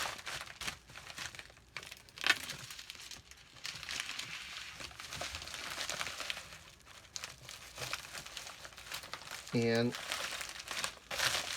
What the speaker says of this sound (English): And I'm going to fold it up. Give it a one solid fold.